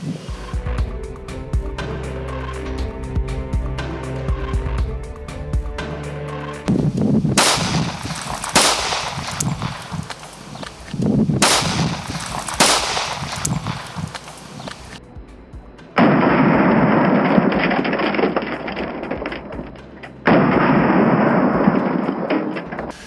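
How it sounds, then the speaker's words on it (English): A Springfield 1911 handgun firing 230 grain hollow points at a car, with several sharp, loud gunshot bursts separated by pauses and echoing decay. "Our next gun will be the Springfield 1911, firing a 230 grain hollow point."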